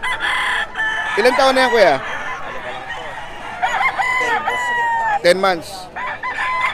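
A ten-month-old Sweater breed rooster crows loudly and close by, with two or three drawn-out calls among clucking fowl, while people talk over it at a market.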